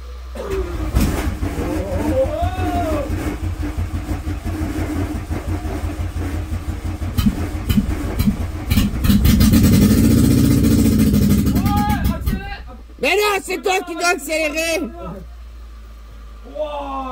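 Carburetted 1.6-litre petrol engine of a 1980 Volkswagen Golf running close by and being revved, a steady rumble swelling into a louder surge before dropping back, with people talking over it.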